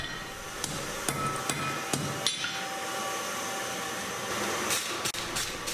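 Hammer blows forge welding 12 mm square and 10 mm round steel bars for blacksmith U-box tongs, sharp ringing strikes in an irregular series over a constant roar of the forge blower, no voices.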